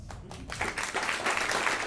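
A comedy-club crowd breaks into applause, a few scattered claps at first swelling quickly into a full, steady round of clapping at moderate loudness.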